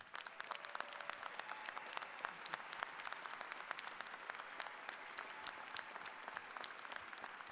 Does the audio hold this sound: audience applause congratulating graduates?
yes